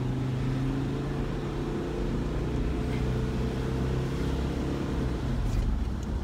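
Classic Land Rover Discovery accelerating from about 21 to 32 mph, heard from inside the cabin as a steady, close engine drone with road rumble throughout.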